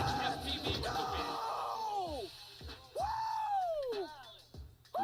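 A drone racing pilot screaming and yelling in celebration after winning a final, with long, loud, falling cries repeated several times, close to the microphone, alongside excited crowd noise.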